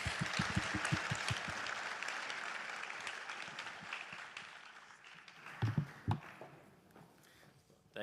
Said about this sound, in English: Please, ladies and gentlemen, a hand of applause